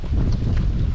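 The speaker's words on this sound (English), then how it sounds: "Oh my god, it's so windy." A brief, loud gust of wind at Evangola State Park buffets the microphone, a dense low roar with no voices.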